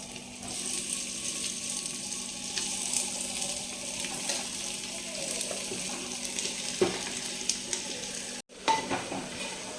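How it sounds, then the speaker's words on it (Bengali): Chicken pieces fry in hot oil for handi chicken, a continuous sizzle with occasional clinks of a utensil against the pot and a brief break near the end. "দেখি আমার তেল গরম হয়ে গেছে, ওই চিকেনগুলো আমি দিয়ে দিই।"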